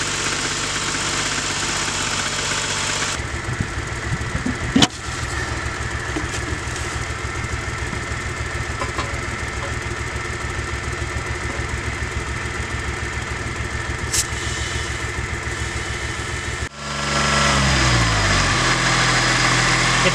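An old engine that sat untouched for years idles with a rough, rapid knocking pulse after a short lower stretch. A sharp click breaks in early, and the sound shifts to a smoother, louder roar near the end.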